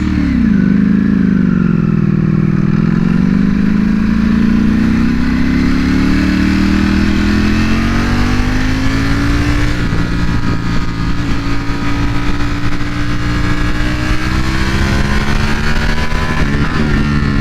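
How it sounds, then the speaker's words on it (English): A 2020 Ducati Panigale V4 R with stock exhaust and a dry clutch revs loud and close, its pitch sliding down and then climbing steadily, with a continuous rattling clutch chatter under the engine note. "It's dry clutch. You hear that dry clutch?"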